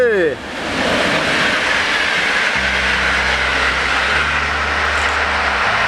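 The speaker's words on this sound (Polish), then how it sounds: "jedzie pociąg pośpieszny z siódemeczką" Loud express passenger train rushing past close by, a broad roaring wash with rumbling low drone, following a brief voice at the start.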